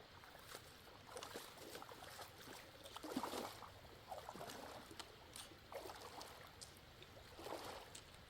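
Water sloshing as a hiker wades across Blair Creek on the Ozark Trail in sandals, with irregular soft splashes and swishes from footsteps in shallow flowing water, faint and close, without speech.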